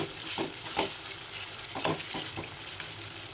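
Green chili paste cooking down in oil for mango rice, a faint bubbling sizzle with a few soft stirring scrapes spaced irregularly.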